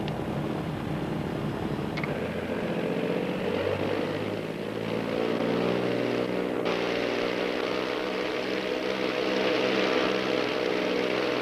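Queen Air aircraft taking off: steady propeller engine drone rising in pitch and volume as power builds, a continuous layered hum with beating tones, no talk.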